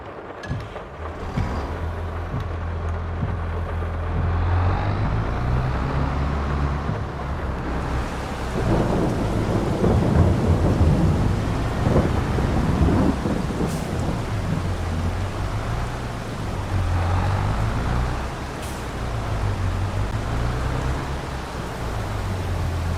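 Rain and thunder in the farming video game Farming Simulator 22, a steady loud downpour with rolling thunder rumbles swelling and fading throughout, along with a low engine-like drone.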